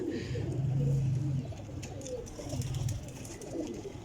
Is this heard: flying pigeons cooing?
yes